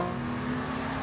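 A batch of supercars at the Goodwood Festival of Speed drives past with a steady, loud engine drone, one continuous roar without breaks.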